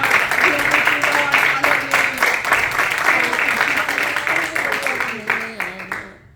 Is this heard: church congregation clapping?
yes